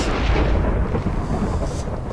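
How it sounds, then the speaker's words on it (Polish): Thunder from a lightning strike in a Minecraft Survival Games match, a steady low rumble holding at even loudness throughout with no distinct crack, sounding distant. "Najpierw tu chyba gdzieś napierdzielał piorun, teraz tam."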